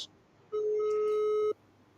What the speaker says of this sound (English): So again, this number is ringing.